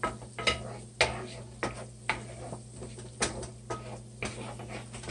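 A spoon stirs fresh chives into a pot of oxtail stew with buttered noodles, giving a steady series of light clinks and taps against the pot over a low hum.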